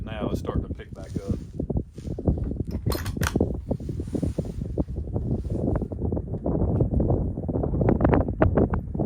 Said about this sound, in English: Y'all might be able to hear that wind a little bit now.